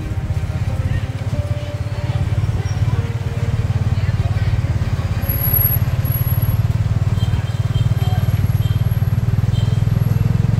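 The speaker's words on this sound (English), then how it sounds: "I'm in the back of a tuk-tuk" A tuk-tuk rattles along a street in Phnom Penh at night, its motorcycle engine buzzing steadily and close with bumpy clatter from the unsprung cab, with no pauses.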